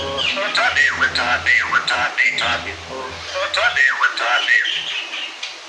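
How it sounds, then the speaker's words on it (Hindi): Myna bird calling repeatedly, a close, loud run of whistles, chirps and squawks in quick succession, with someone talking over parts of it. "आज हमारी मैना बहुत बोल रही है, बहुत बोल रही है"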